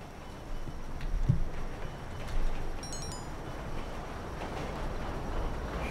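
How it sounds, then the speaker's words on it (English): A train passes in the GTA Online video game, a continuous rolling rumble with a few clunks and brief high metallic pings partway through, fairly loud throughout. "Oh, another train's coming up."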